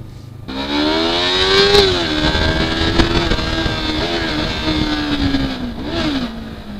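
A Yamaha R3 motorcycle rides in the rain, its engine droning steadily with rising and falling revs close to the microphone, wind and road noise mixed in, and no talking.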